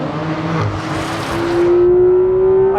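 A Porsche 911 GT3 engine on a race track revs loud and close, its tone climbing steadily toward high RPM through a sustained rising wail.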